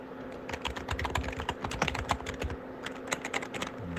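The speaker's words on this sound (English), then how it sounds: "It's just like a lot of coding and typing, a lot of coding and typing." Fast typing on a computer keyboard during C++ coding for an Android platformer, a dense run of close, crisp key clicks with small irregular pauses, heard alone.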